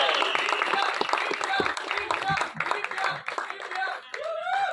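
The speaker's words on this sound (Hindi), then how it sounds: "जोरदार तालियां हो जाएं।" Applause breaks out from the audience at a film trailer launch event, a burst of clapping mixed with chuckles and crowd noise, with people talking over and through it.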